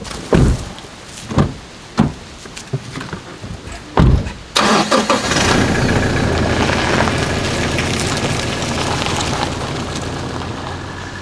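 Car door thumps and a few knocks, then a car engine cranks and starts, settling into a steady, loud idle rumble that continues to the end, close by, with no talking.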